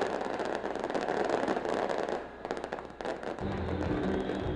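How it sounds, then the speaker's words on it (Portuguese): Fireworks explode at a football stadium before the 1998 Copa do Nordeste final between América RN and Vitória. A dense, continuous crackle of bursts rolls on steadily at a moderate distance. "Para abrir a festa, um arsenal de fogos, uma explosão para calar o time baiano."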